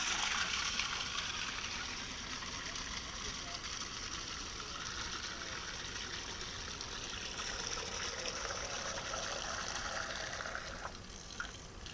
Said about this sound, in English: this water that's in the sprinkling can I just drew out of one of our rain barrels from the garden shed roof